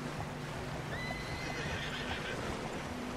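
Horse neighing in the video game Red Dead Redemption II, a clear whinny rising over a constant rushing wash of water and ambient noise, with no talk.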